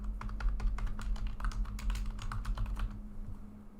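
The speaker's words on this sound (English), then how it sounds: "Some of y'all get crazy when I write with a pen, so I will type it." Fingers type on a computer keyboard in a quick, uneven run of clicking keystrokes, close and fairly quiet, over a low steady hum. The typing stops just before the end.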